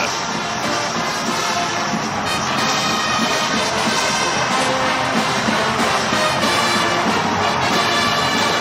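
A football stadium crowd at a New Mexico State vs Liberty game roars after a 96-yard return. The sound is a dense, steady, loud wash of cheering that runs throughout with no distinct voices on top.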